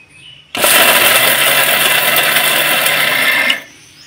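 A mixer grinder whirs loudly as it grinds pistachios and sugar, a steady, dense motor roar that starts abruptly, holds evenly for about three seconds, then cuts off.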